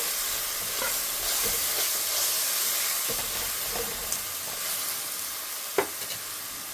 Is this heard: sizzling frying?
yes